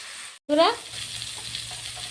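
Potato and yardlong beans frying in a pan, a soft steady sizzle after a brief dropout, with a short burst of a voice or clatter near the start.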